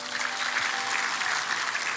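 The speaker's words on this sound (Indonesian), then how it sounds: "Berikan tepuk tangan pada Tuhan." A church congregation claps during an Indonesian sermon, a short burst of steady, dense applause filling the room.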